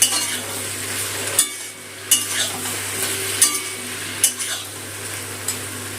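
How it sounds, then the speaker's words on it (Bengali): A fish head stirred with vegetables in a hot pan: steady frying hiss with a low stove hum, broken by a few sharp clinks of a utensil scraping against the pan at irregular intervals. "মাছের মাথাটা একটু সবজির সাথে নেড়ে মিশিয়ে নেব।"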